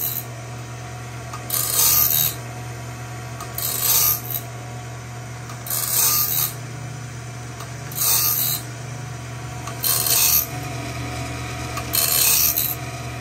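A sawmill blade is sharpened in a sharpening room: loud grinding passes of about a second each come every two seconds, six in all, over a steady mechanical hum.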